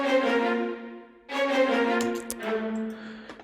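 Sustained orchestral melody with its notes doubled an octave, a dark sampled texture in two phrases with a rich stack of harmonics, played alone at moderate loudness.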